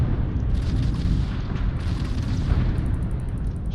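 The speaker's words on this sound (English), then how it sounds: "Ship shooting at me" An enemy ship fires on the player in the space game Starfield, producing a dense, loud, continuous rumble of booming blasts and bursts, with a faint electronic beeping near the end.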